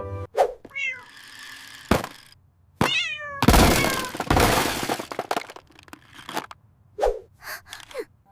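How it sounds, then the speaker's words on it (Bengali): A frightened cartoon cat lets out several sharp, rising meows between loud crashing and breaking noises, with bursts of clatter in the middle and short, separate yowls near the end. "আরে আস্তে চালা, মিন্টু বিড়ালটা কিন্তু ভয় পাচ্ছে।"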